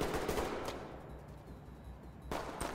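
Gunfire in the tactical shooter game Ready or Not: rapid bursts of shots at the start and again near the end, with a quieter stretch of faint crackle between, moderately loud.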